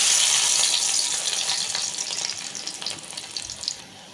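Garlic hitting hot oil in a pan while cooking pumpkin fry, a loud bright sizzle that settles into a steady crackling fry, with no talking.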